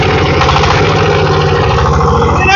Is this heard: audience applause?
no